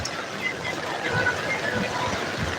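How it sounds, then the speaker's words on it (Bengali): Floodwater rushing along a street during heavy monsoon rain in Mumbai, a steady broadband wash of flowing water and rain noise with faint voices in the background. "এখন জলের স্রোতও দেখো কি পরিমাণে জলের স্রোত আসতেছে"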